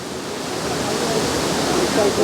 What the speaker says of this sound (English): you're lucky to see the stream of water falling down into this pool